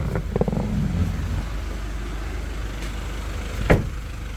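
A 2021 LDV G10+ van sits with its engine idling, a low steady rumble close by, with a few faint knocks and a brief sharp click near the end.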